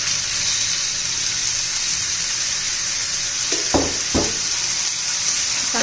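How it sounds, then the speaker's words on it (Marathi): Mixed winter vegetables tossed in hot oil, a constant close sizzle and hiss with two brief spoon knocks near the end. "चांगलं 2-4 मिनिटं आपण ह्या भाज्या परतून घेणार आहोत"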